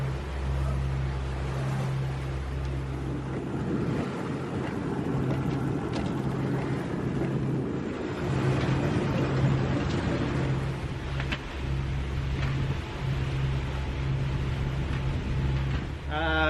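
A sailboat motors out through a reef pass in French Polynesia, heading straight into the wind: a steady, loud low engine drone with broad wind and water rush continuing unbroken throughout, with no voices.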